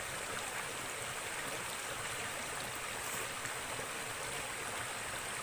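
A river stream flows steadily at a fishing spot, a constant broadband rush of water with no pauses, close and even throughout.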